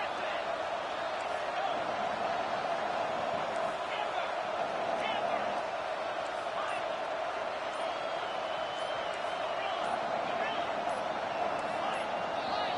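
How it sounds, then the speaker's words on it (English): A stadium crowd at a Florida versus Colorado homecoming football game makes a dense, steady roar that fills the whole stretch without pause, loud and continuous. "listen to this crowd noise. This stadium is vibrating"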